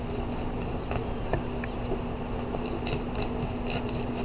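Scissors snip in a series of faint, quick clicks over a constant background hum.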